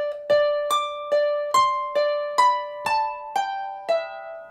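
A single harp plays a short phrase of a tune, opening on an octave, with about nine evenly spaced plucked notes ringing out clearly and alone.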